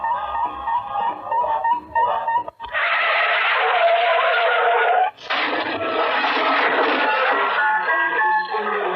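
Car tyres screech under hard braking as a radio advertisement effect on a 1971 broadcast, with two long, harsh squeals back to back, loud and filling the sound after a short burst of earlier audio.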